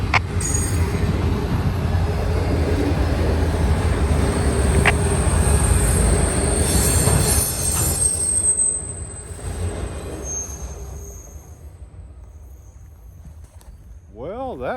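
A short train rumbles past on the rails of an elevated curve, its wheels squealing loudly, then the noise fades quickly, leaving quieter background sounds.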